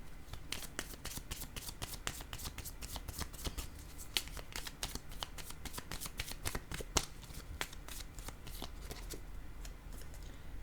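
Playing cards, apparently tarot-style cards in a reading, are handled and shuffled close by, a rapid run of crisp flicking riffles and soft slaps repeating almost continuously, fairly quiet and without talk.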